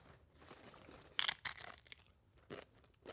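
Close, loud crunches of food being chewed during a mukbang, coming in a few sharp bursts with quieter munching between them and no talking.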